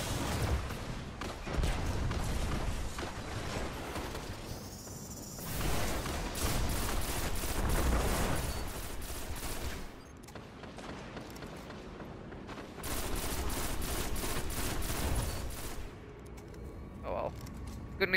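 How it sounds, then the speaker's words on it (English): Full-auto weapon fire in a Destiny PvP match, loud bursts of rapid shots in several long stretches broken by quieter gaps, mixed with mechanical clatter and game effects, while people talk. "I'm playing with a weapon that has full auto"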